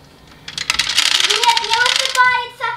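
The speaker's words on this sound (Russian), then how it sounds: "Сейчас покажу вам, в общем, как высыпается корм." An automatic pet feeder dispenses dry food into a bowl, a rapid rattling cascade of kibble pattering and clinking close by for about two seconds, with a voice speaking over the end.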